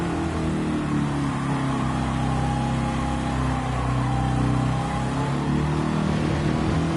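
Corvette race car engine in a racing game at Fuji, droning steadily with sustained revving throughout, loud and continuous with no talk over it.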